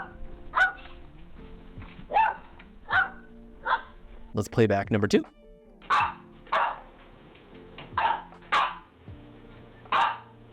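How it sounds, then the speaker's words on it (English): Generated dog barks in an empty room, a steady series of single hollow barks spaced about a second apart, briefly interrupted by a louder burst, with a voice speaking over the start. "I'll say a dog barking in an empty room and we will generate the sound effect."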